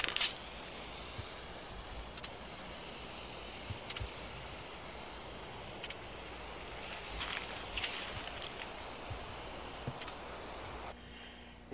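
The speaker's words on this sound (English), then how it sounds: "And now a quick coat of clear enamel." A steady, close hiss of aerosol spray as a quick coat of clear enamel goes onto a wooden Mandalorian-inspired helmet, running almost continuously before cutting off near the end.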